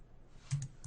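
A few soft, close clicks from a computer keyboard as keys are pressed, faint and isolated in a quiet room.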